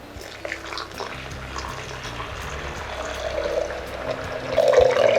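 Water pours into a lasagna cheese mixture, a steady liquid stream and splashing that grows louder and more turbulent toward the end, close up with no talking.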